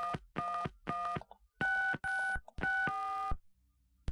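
DTMF telephone keypad tones from a phone in the Gabriel Knight: Sins of the Fathers PC adventure game, a rapid sequence of about seven clear beeps in short even bursts, loud and alone.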